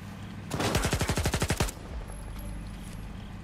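A rapid burst of automatic gunfire in the Stalker 2 video game, about a dozen sharp shots in quick succession, loud and close, followed by a low background hum.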